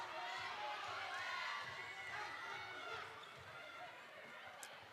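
Loud, sustained crowd roar at a girls' high school basketball game between Eufaula and Muldrow, a dense wash of cheering voices filling the gym, steady throughout and easing slightly toward the end, with a faint bounce or thud near the close.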